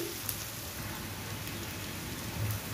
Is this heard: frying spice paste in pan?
yes